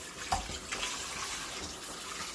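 Tap water running over raw, thawed New Zealand spring lamb shoulder chops in a sink, a close steady splashing stream with a few brief spatters as the meat is rinsed.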